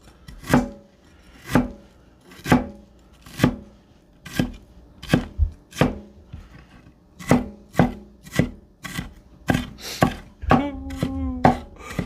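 A knife chopping onions on a board gives a steady run of sharp, close thuds, roughly one each second, then faster at the end. There is no talk.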